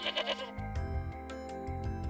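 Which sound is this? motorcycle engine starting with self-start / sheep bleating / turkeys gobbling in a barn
sheep bleating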